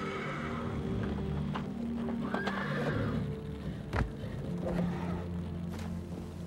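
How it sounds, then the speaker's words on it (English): A horse trapped in the swollen, fast-flowing Bolu River in western Turkey whinnies and neighs several times, with some hoof-like knocks, over a constant rushing background. "this horse found itself trapped in the ferocious Bolu River"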